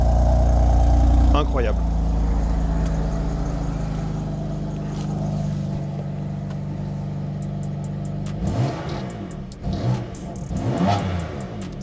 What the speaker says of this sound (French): petite Alpine qui passe